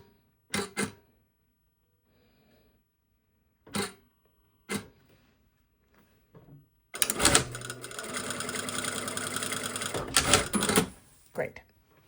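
A sewing machine stitches a lining seam in one continuous rapid mechanical run of about three seconds, preceded by a few sharp clicks and handling taps, with speech around it.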